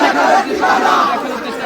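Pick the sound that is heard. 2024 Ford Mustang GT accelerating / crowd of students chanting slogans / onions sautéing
crowd of students chanting slogans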